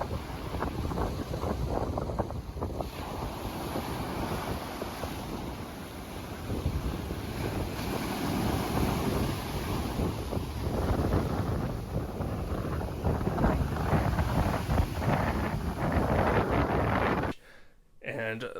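Rough sea pounds a beach at Plaka on Naxos, Greece, while strong wind buffets the microphone in a loud, continuous roar that cuts out sharply near the end.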